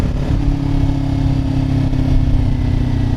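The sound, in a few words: motorcycle engine while downshifting gears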